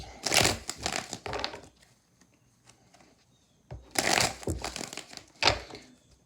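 Tarot cards are shuffled by hand in two distinct bursts of crisp, riffling flutter separated by a quiet pause, close and fairly soft.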